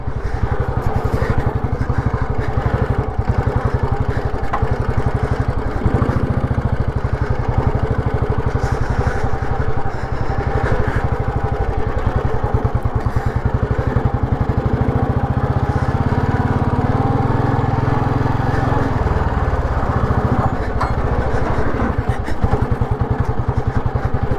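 A thumping single-cylinder Royal Enfield Bullet 350 CI motorcycle engine runs steadily and loudly throughout, with rough off-road revving along a riverbank and no pauses.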